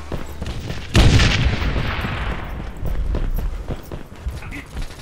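A loud grenade blast in the War Trigger shooter game opens with a heavy boom, followed by rattling gunfire and battle noise that trails off over several seconds.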